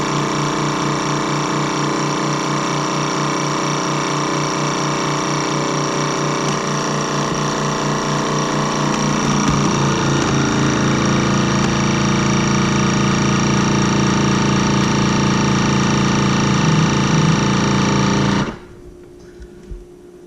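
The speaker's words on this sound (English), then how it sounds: "press the back seal and it'll vacuum until all the air is out, and then it'll seal" A Geryon vacuum sealer pumps the air out of a bag holding fish, running as a loud, steady motor drone with a shift partway through, then cutting off abruptly as it finishes sealing.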